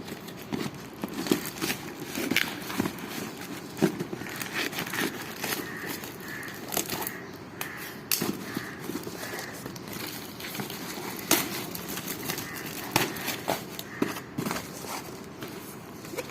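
A packed cardboard parcel marked fragile is opened up close, with crinkling, rustling and tearing of tape and cardboard sounding in irregular bursts throughout, no voices.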